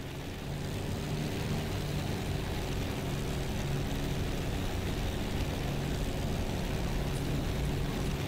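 Supermarine Spitfire Mk IX engine in the DCS flight game throttling up, a steady loud droning roar that holds constant throughout with no pauses.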